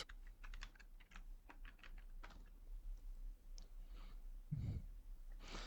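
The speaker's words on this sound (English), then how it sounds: "And then here I will type Code Runner." Fingers type on a computer keyboard, entering a search for an extension in the VS Code editor: a run of quick, close, crisp key clicks in an irregular rhythm, with no talk.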